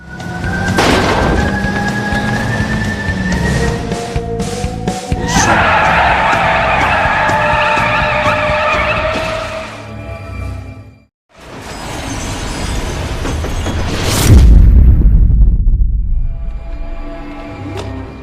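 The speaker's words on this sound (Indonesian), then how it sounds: "Dan Kelly tunangannya meninggal di TKP karena mobilnya meledak." A movie car crash with skidding tires, a sudden silence, then a loud boom as the car explodes, followed by a deep rumbling fireball, all loud and close with no speech.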